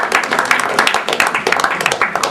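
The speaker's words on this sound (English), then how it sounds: "All those who speak English, clap your hands." Audience at a formal Bali–Hawaii sister-state agreement signing claps their hands, a fairly loud burst of uneven applause from a smallish crowd lasting a couple of seconds.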